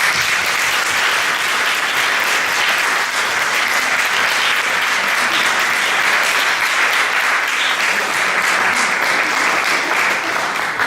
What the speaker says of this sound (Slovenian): jaz bi se vam zahvalil, ker ste prišli, hvala za čudovit film in še en aplavz za njih